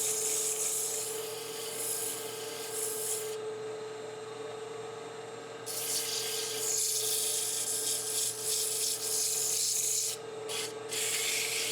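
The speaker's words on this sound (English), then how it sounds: "you might want to wrap the sandpaper around a dowel if you're making a smaller hole" Sandpaper rubs around a wooden scoop hole being shaped on a lathe, a steady close rasping hiss over a constant machine hum, with brief pauses in the scraping.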